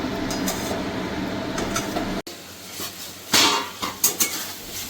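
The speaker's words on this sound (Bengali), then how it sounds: "এবারে মশলাটাকে একটু ভালো করে কষিয়ে নেব" Spice paste fried in a pan for a catla fish curry, a steady sizzle with stirring that cuts off abruptly, followed by clanks of a spoon against metal and scraping, close and fairly loud.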